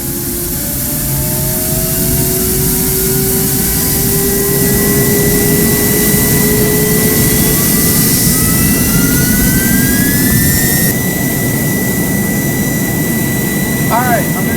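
An F-16 Fighting Falcon jet engine starting in the GeoFS flight simulator whines up loudly, its pitch climbing steadily over a heavy roaring rumble, close and sustained throughout.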